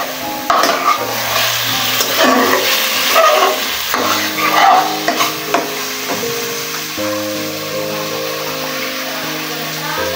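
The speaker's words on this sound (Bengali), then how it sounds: "মাংস এখন ভাজা নিতেছি" Meat sizzles as it fries in a pot, with scraping stirs of a spoon against the metal, close and fairly loud, while a soft background musical tone runs underneath.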